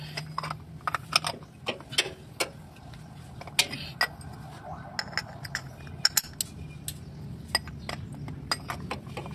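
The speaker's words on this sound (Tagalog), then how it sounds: "next move natin to, tanggalin natin yung oil filter natin" Oil filter being unscrewed and pulled off a Mitsubishi Montero Sport during an oil change, heard as scattered sharp metallic clinks and taps over a low hum, close and irregular.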